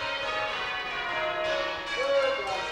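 Cathedral church bells at Christ Church in Victoria ring down the scale at the start of change ringing, overlapping metallic tones sustained and blending at moderate loudness.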